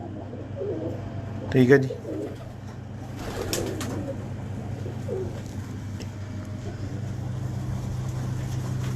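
Homing pigeons bred by Mubashar give a burst of cooing and fluttering calls near the start, then softer bird sounds over a low background hum, with someone speaking briefly.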